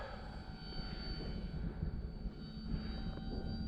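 An OMP Bighorn radio-controlled model airplane flies on its maiden flight, a steady whining motor drone that holds at a moderate, even level with slight swells as it moves, with no talking.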